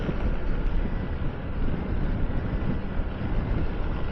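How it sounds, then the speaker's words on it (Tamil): A sandstorm wind blows hard in Saudi Arabia, with a constant, loud rushing roar and microphone buffeting and no speech. "சாண்ட்ஸ்ட்ரோம்"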